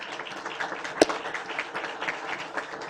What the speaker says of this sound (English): let's give them a round of applause if we can